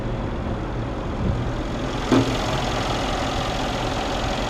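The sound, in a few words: twin turbo V8 engine idling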